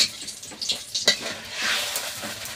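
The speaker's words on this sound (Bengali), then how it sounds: "তেলে শুকনো লঙ্কা দিয়ে দিচ্ছে, একটু তেজপাতা দিয়ে দিচ্ছে" Dried red chillies and a bay leaf hit hot oil, sending up a loud, crackling sizzle with brief stirring scrapes of a utensil against the pan.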